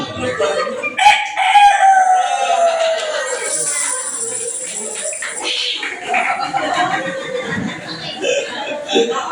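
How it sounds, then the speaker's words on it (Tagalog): A rooster gives one long, drawn-out crow, loud and close, amid faint chuckling and background chatter. "Nangyari yun, tumilaok na yung cock."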